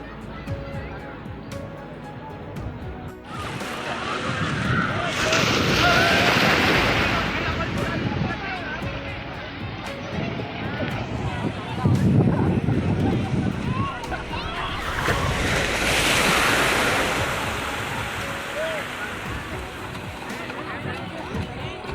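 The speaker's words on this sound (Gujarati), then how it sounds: "દરિયો પણ ફૂલ મોજમાં છે" Sea waves at Nagoa Beach in Diu, a busy public beach in bright sun, roll in as broad swells of surf that rise and fall in loud washes, with crowd chatter and voices running underneath throughout.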